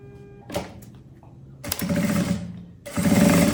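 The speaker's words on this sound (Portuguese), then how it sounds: "E vou costurar da metade pra frente." A sewing machine stitches a quilted puffer tote bag in two short bursts of rapid, steady needle clatter, close and fairly loud, separated by a quieter pause with handling noises.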